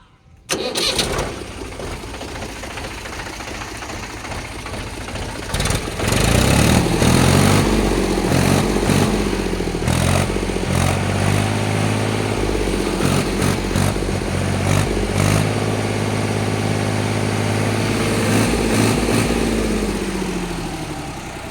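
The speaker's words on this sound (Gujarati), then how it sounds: "હવે આપણે એન્જિનને સ્ટાર્ટ કરીએ" A Mahindra tractor engine cranks and catches, then settles into a loud, steady running rumble with uneven knocks, heavy and close, no voices.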